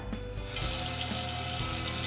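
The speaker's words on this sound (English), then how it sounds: "So all I'm gonna do is rinse it with hot water." Hot tap water runs steadily into a sink over a greasy pan, beginning after a brief quieter moment and continuing as a loud, close, even rush with no talking.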